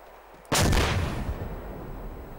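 A single loud, booming artillery-style gunshot from a video game weapon erupts abruptly, then a long rumbling decay trails off, with no talk over it.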